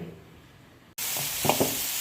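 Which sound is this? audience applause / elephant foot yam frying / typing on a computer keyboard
elephant foot yam frying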